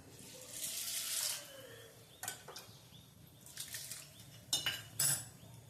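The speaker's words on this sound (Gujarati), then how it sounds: "હવે આ દાળને આપણે ગરમ પાણીએથી ધોવાનું પલાળી જરી" Toor dal is rinsed with hot water in a kitchen: running water splashes into a pot, followed by a few separate clinks and sloshes of the vessel, close by and with no one speaking.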